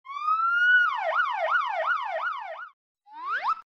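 A police car siren wails loud and clear, starting with a rising tone, then cycling rapidly up and down several times before a brief pause and another short rising whoop.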